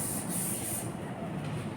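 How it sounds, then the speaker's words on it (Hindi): Hair shine spray misted during a hairstyling masterclass, a steady airy hiss from the aerosol can that holds for a second or so, then fades into softer continuous noise, with no talking. "आगे की तरफ शाइन स्प्रे।"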